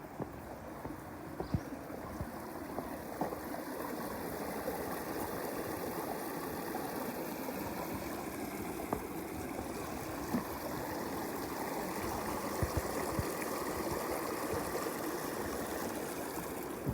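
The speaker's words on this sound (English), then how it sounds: "Beautiful water source. Water is as clear as it can be." A clear stream flows steadily at a natural water source, making a constant soft rushing and babbling wash that stays even and unbroken with no voices.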